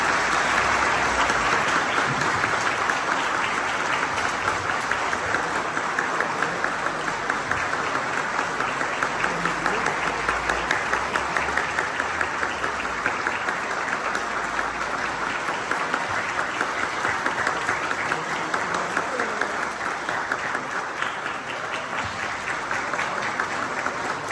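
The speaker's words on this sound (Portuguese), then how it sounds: "Podemos aplaudir o nosso bispo diocesano." A church congregation at a feast-day Mass for Saint Matthias applauds the diocesan bishop, a long, sustained wave of clapping that fills the space and holds steady before easing slightly near the end.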